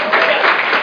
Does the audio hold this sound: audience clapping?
yes